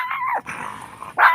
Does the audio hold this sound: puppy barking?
yes